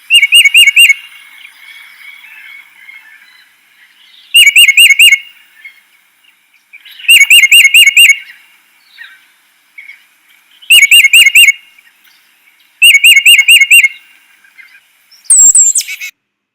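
A bird sings loud, rapid bursts of repeated two-note phrases, about six separate songs with short pauses between them, clear and close.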